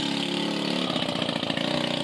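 A 150cc Scorpion go-kart engine runs close by, first idling steadily and then revving up briefly into a faster, buzzing pulse.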